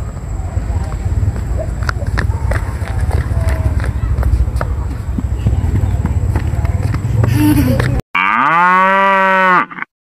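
A cow lets out one loud, close, drawn-out moo at the end, after a stretch of outdoor rustling and distant footfalls.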